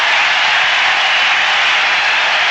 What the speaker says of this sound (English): And listen to the crowd. They love it in the dome.